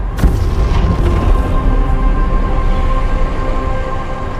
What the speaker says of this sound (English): The Big Bang, right now.